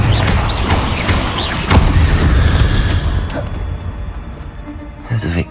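A Confringo blasting spell explosion in Hogwarts Legacy, a booming burst amid dense combat noise, heard under speaking voices and fading toward the end.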